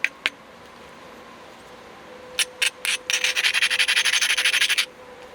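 A flint platform edge is ground with an abrading stone, producing a few separate scrapes and then a quick run of rapid, close rasping strokes that stops sharply, heard alone.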